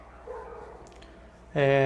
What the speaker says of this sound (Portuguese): Hoje os cachorros aqui da rua resolveram latir muito